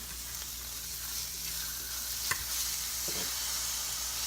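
Pork sizzles and fries steadily in a pan while it is turned, a dense continuous hiss with a brief knock as the meat is flipped, close and fairly loud, with no talking.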